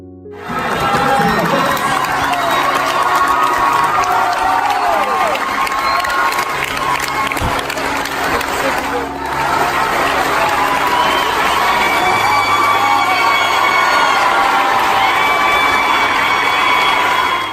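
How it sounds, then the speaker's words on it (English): A large crowd at a game cheers, claps and shouts loudly and continuously during a soldier's surprise homecoming reunion, with excited voices and whoops rising throughout. "The cheers and applause from the audience add to the excitement of this family reunion."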